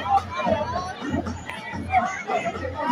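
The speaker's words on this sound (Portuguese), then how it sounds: "A torcida está reclamando." Football crowd at a 2022 intermunicipal tournament semifinal match in Brazil, a continuous murmuring babble of many voices rising in protest over a foul, with a few louder shouts swelling out of the steady crowd noise.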